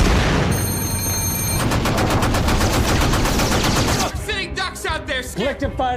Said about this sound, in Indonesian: mereka ditembaki sama artileri Jerman